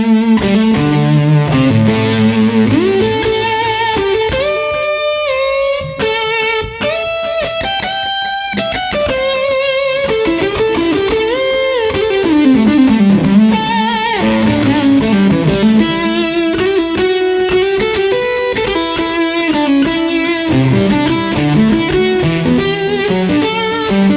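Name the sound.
electric guitar through a Fuzz Face fuzz pedal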